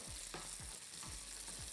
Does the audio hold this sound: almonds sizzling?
yes